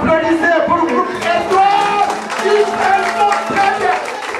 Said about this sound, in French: Applaudissez pour le groupe